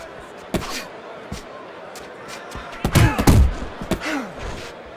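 Punches land in the boxing video game Fight Night Champion as a few dull thuds and slams, with a heavy cluster in the middle, over crowd ambience and a commentator talking.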